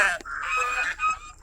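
A goose honks repeatedly at close range while animals are being fed, with loud, harmonic calls coming in overlapping bursts and no talk over them.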